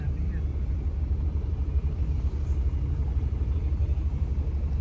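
Vehicles stuck in a traffic jam during a heavy snowstorm on a Jammu and Kashmir road give a steady, close engine rumble that holds unbroken throughout.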